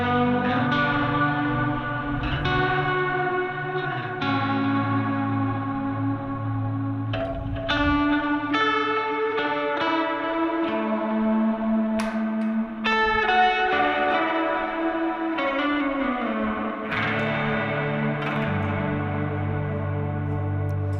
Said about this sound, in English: And then with the L cap and some reverb, I mean, it's kind of like a vibrato pedal.